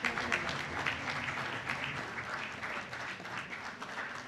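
Audience applause at an awards ceremony in Aurangabad honoring social service workers, a steady, fairly distant wash of many hands clapping that holds evenly throughout.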